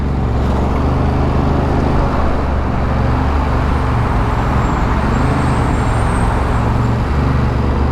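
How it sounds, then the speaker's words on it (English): A big truck rolls past in dense New York City traffic, its loud, low engine rumble blending with steady roadway noise from surrounding vehicles, close and continuous throughout, with no voices. "Look at this big boy truck."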